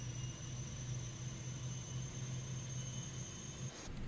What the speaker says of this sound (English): you can hear the APU jet engine starting in the back of the airplane